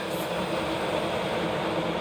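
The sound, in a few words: SEPTA Broad Street Line subway train riding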